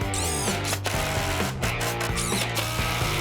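A power drill whirs and ratchets in bursts, the motor pitch shifting as 2.5-inch exterior screws are driven through pallet wood into 2x4s up close.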